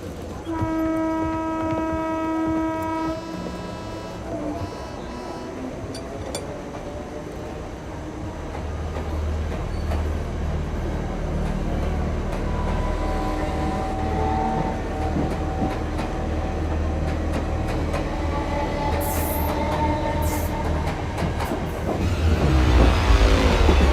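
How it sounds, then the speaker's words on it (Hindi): A fast train pulls into a railway station platform, starting with a long horn blast, then rumbling and clattering louder as it draws near, with squealing brakes toward the end. "जाने वाली फास्ट ट्रेन प्लेटफॉर्म नंबर 4 पर आ चुकी है।"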